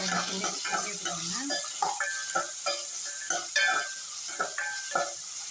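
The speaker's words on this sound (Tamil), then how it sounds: "இது கொஞ்சம் வதங்கட்டும், கொஞ்சம் நல்லாவே வதங்கட்டும்" Garlic sautéing in a pan as the base for a South Indian prawn gravy, with steady soft sizzling and repeated stirring clinks and scrapes of a utensil against the pan, heard close with no talk.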